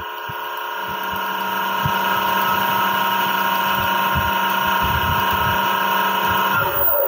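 An electric motor driven by a VFD under PLC control over Modbus, switched on to run forward: a steady, loud, close whine with strong constant tones that ramps up over the first second and then holds, with faint clicks underneath.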